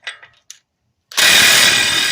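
After a few short clicks and a pause, a power tool abruptly starts and runs loud and continuous, tightening the front axle nut on a 2008-2010 BMW 528xi during a CV axle replacement.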